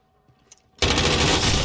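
Rifle gunfire in the video game Warzone erupts abruptly after near silence and becomes a loud, sustained burst of rapid shots that continues to the end of the clip.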